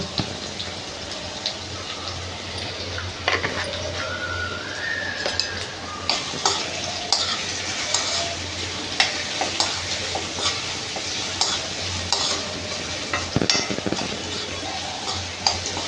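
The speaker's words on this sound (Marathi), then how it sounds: "आता हे कांदा थोडा ट्रान्सपरंट होईपर्यंत आपल्याला शिजवायचं आहे" Chopped onion with a pinch of asafoetida frying in oil, cooking toward translucent for a red amaranth leaf sabzi, with a steady close sizzle and repeated scraping clinks of a spoon stirring against the pan.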